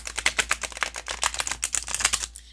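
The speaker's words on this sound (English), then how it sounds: "first shuffle. I am expecting it to shuffle okay, but we shall see." A Wise Dog tarot deck being shuffled by hand, a dense run of quick papery card flutters and riffles that continues steadily for a couple of seconds, close and fairly loud, with no talking over it.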